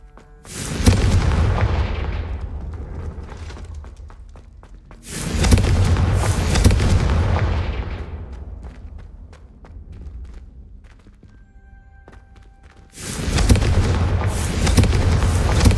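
Confringo fire spell explosions in the video game Hogwarts Legacy: three heavy booming blasts a few seconds apart, each with a long rumbling decay, loud and close.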